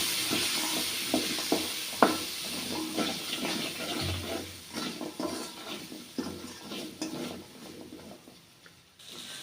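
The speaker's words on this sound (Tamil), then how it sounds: "ஒரு ஒரு கை அளவுக்கு சின்ன வெங்காயம் அதோட கருவேப்பிலை எல்லாத்தையும் சேர்த்து நல்லா வந்து வதக்கி விட்டுறலாம்" Shallots and curry leaves sauté in a hot pan with a steady sizzling hiss, punctuated by small pops and clinks of stirring, close and moderately loud.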